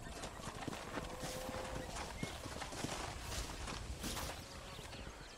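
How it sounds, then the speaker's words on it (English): Horse hooves clip-clop steadily on the ground in the western video game Red Dead Redemption, a close, even walking rhythm set over faint ambient background. "Hit your horse and wait for me by the stable."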